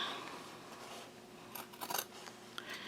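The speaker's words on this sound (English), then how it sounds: "start to make a cut in here. And then I'm just going to cut across to each side." Scissors snip through fabric while a zipper pouch is being made, a quiet cluster of close crisp cuts in the second half after a near-silent start, with one more short snip near the end.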